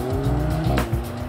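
A 2015 Audi S3 corners hard through a pylon course, tires squealing steadily under a loud engine drone, with one brief sharper chirp midway.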